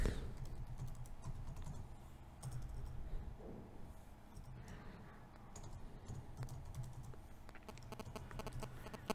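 Steady typing on a computer keyboard as an email address goes into an online visa application form, quick irregular key clicks running throughout at close range, quiet and alone.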